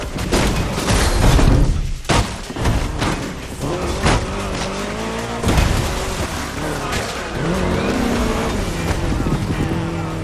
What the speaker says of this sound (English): we got you an Austin Mini Cooper S, maneuverable and lovely